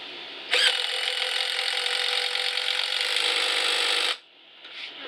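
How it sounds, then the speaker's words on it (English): A ratchet cranks down a strut top mount while lowering springs go onto a 2016 Dodge Challenger Hellcat, a rapid continuous clicking run of about three and a half seconds, close and clear, then stopping. "crank it down until it stops or torques"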